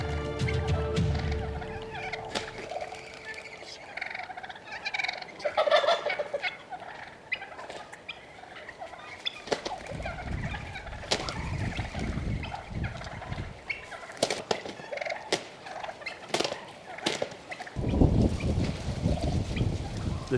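Wild turkey toms and hens gather outdoors as toms fight, with repeated gobbles and clucks at varying distances, scuffling and wingbeats, and low rumbling noise in some stretches.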